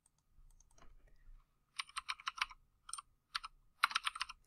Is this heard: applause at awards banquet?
no